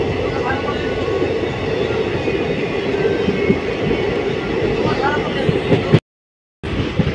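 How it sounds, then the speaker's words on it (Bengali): The Kanchenjunga Express rolls into New Moynaguri railway station in rain, a continuous close rumble and rattle of carriages heard from on board, with a brief dropout near the end. "আমাদের ট্রেন এই মুহূর্তে প্রবেশ করছে নিউ ময়নাগুড়ি রেলওয়ে স্টেশনে"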